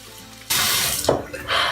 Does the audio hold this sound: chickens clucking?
no